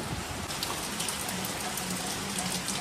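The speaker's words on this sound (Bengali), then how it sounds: "বেশ জোরে বৃষ্টিটা হচ্ছে।" Heavy rain falls steadily, a dense, even hiss of drops hitting surfaces nearby, fairly soft in level and continuous with no voices.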